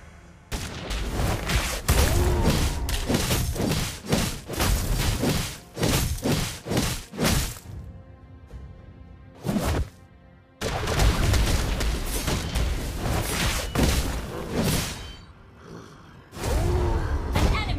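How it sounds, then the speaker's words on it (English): A turret is destroyed in a team battle video game. Loud, dense booms and blasts come in long bursts separated by brief gaps. "Your team destroyed a turret!"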